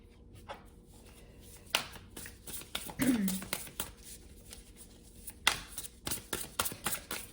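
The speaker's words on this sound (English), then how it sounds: "So I'm going to pull 2 more from here, and then we will dive into the first 3 tarot cards" Tarot cards being pulled and shuffled from a deck at close range, with crisp flicks, slides and taps in an irregular rhythm and a brief murmur of voice in the middle.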